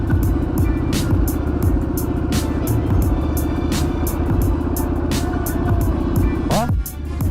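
Harley-Davidson Sportster S motorcycle engine running, a loud, steady low rumble with regular clicking pulses throughout, close by and alone until the sound drops off sharply near the end.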